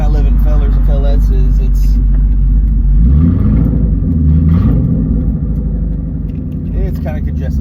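A 2001 Ford Mustang GT V8 idles with a deep, steady rumble, then the revs swell briefly and settle back, heard from close by while someone talks over it at a traffic light.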